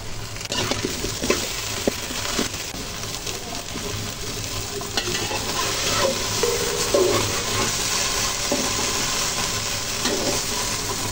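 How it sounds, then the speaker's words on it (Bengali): Okra frying in oil that has just been used for frying fish, with a steady close sizzle and scattered stirring scrapes and clinks throughout, and no voices. "ঢেঁড়সগুলো ভেজে নেব।"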